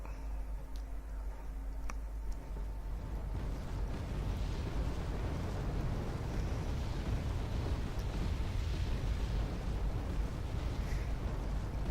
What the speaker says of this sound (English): Some more MLRS coming in to land in on Foxtrot.